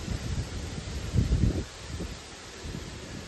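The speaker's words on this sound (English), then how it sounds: "Look at that wind." Strong wind blows through trees outdoors in a steady broadband rush of rustling leaves and branches, with a louder gust swelling briefly partway through.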